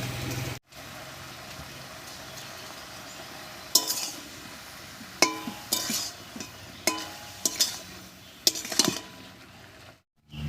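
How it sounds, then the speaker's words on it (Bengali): Spinach being stirred with eggplant in a pan, a utensil scraping and clinking against the metal in irregular bursts over a quiet background, with a few sharper knocks clustered near the end. "বেগুনের সঙ্গে শাকটা খুব ভালো করে মিশিয়ে নিয়েছি"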